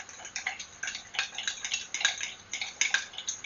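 Rapid, light clinking of a spoon stirring ground black pepper, coriander powder, cumin powder, rock salt and sugar together in a bowl, a steady run of close, crisp ticks with no voices.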